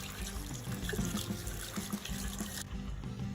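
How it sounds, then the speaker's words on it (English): Tap water running over chopped beef being washed in a kitchen, a steady close splashing trickle that continues throughout with no talk. "I just ran water through the meat"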